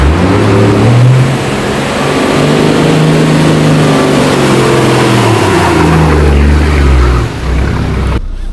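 A 4WD, likely a Landcruiser 80 series or Triton, pushes through a bog hole in two-wheel drive, its engine droning loudly and shifting pitch as it revs and strains, close and continuous.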